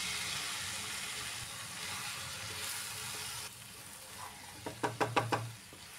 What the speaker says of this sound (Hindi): अब इसमें हम दाल डाल देते हैं।